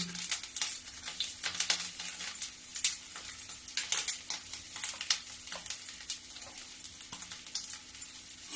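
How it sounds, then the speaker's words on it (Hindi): Ginger dropped into hot oil in a pan while making beetroot kadhi: a faint, crackling sizzle of small irregular pops and spits, with soft scraping stirs, fairly quiet throughout. "देखो तेल गरम हो गई है। अब मैं ये पहले अदरक डालूंगी।"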